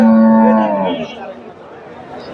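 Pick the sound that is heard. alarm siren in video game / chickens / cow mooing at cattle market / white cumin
cow mooing at cattle market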